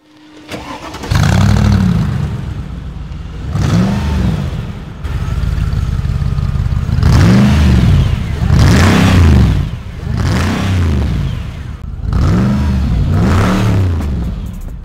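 A Mercedes SLR Stirling Moss engine revs loudly and close by in repeated bursts, several sharp throttle blips rising and falling, with a steady idle rumble between them and no talking.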